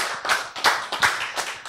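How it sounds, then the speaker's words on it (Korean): A few people clap in a lecture on the Beatitudes, giving a short run of about five sharp, distinct claps at a steady rhythm, close and fairly loud. "박수"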